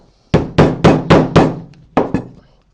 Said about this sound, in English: if you happen to have a hammer handy, you can either pound this out